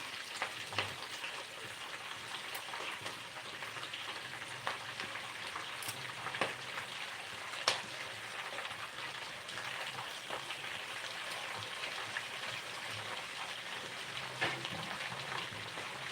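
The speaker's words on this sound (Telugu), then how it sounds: "ఇవి ఫ్రై అయిపోయింది కాబట్టి సో ఇప్పుడు మనం మునగాకు యాడ్ చేసేస్తున్నాము" Moringa leaves fry in a pan with a steady, dense sizzle and crackle, broken by a few sharper pops, close up and without talk.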